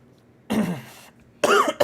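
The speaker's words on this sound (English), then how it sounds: "I still have a cough" Two short, harsh coughs, the second louder and followed by a brief third burst, close to the microphone in a quiet room.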